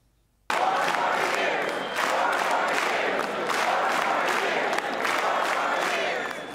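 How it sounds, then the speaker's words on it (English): Crowd at a State of the Union address chanting in a steady rhythmic pulse, loud and sustained, with a roomful of voices repeating the same phrase as the president walks down the aisle. "as the president made his way, the crowd chanted"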